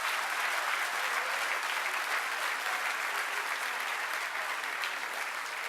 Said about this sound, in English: Now, all of those who've applauded